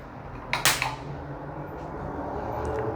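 A pulsed laser fires one shot at a sheet of photographic paper, giving a single sharp crack like a cap gun, followed by a low, steady hum from the equipment.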